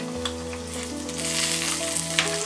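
Crushed garlic, hing (asafoetida) and curry leaves hit hot oil for an onion chutney tempering, giving a steady close crackling sizzle with sharper spits and pops toward the end, no voices.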